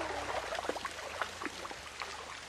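A small waterfall in Australia trickles and splashes softly and steadily, a faint continuous pour with no voices.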